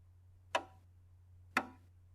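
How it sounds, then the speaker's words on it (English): Two crisp, evenly spaced clicks tick out a steady musical beat, isolated and fairly close over a faint low hum. "The beat of a piece of music is, by itself, kind of boring. It sounds like this."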